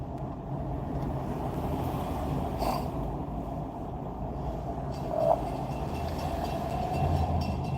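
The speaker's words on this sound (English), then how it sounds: "You see the train coming back again?" Train passing on a railway track near a crossing, a steady low rumble heard from a nearby vehicle, with a brief squeal midway and a faint swell toward the end.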